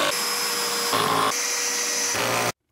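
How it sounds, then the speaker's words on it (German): A power screwdriver drives long screws into the side panel of an IKEA Trofast shelf, a loud close continuous whir whose pitch shifts in steps as the motor loads, then stops abruptly, with no talking. "müssen wir jetzt halt insgesamt 6 solche langen Schrauben einmal wieder in die Seite hineindrehen"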